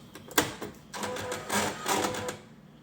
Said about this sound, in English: close the top cover of the printer, and you'll hear it initialize